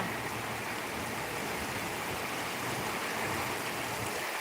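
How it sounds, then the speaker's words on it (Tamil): Steady rain falls outdoors as an even, dense hiss that does not change for several seconds, with no voices. "மழை பெய்யுதா"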